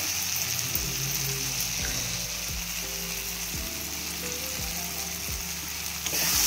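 Tadka of spices and dried fenugreek leaves (kasuri methi) sizzles steadily in hot oil for dhaba-style egg tadka, a loud, continuous frying hiss with faint rhythmic clicks underneath.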